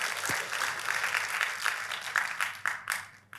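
A church congregation applauding during a sermon, a soft, distant ripple of many hands clapping that holds steady for a few seconds.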